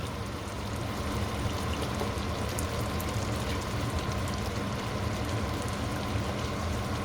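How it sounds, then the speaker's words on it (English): A pot of sardine sauce bubbles on the heat in a steady, soft, continuous simmer with a faint watery hiss and no talk. "so you leave it to boil a bit."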